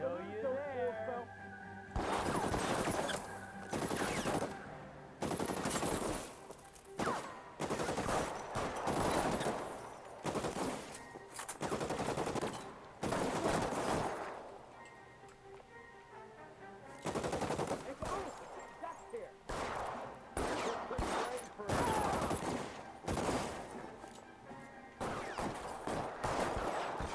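Machine gun fire in the 1940s-set game L.A. Noire, repeated loud bursts of rattling shots separated by short pauses across the scene, with a voice talking at points between the volleys.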